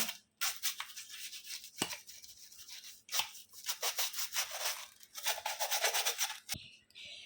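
Toothpaste scrubbed on an old tea strainer makes bursts of brisk, close bristly rubbing, several strokes separated by brief pauses, with no talk.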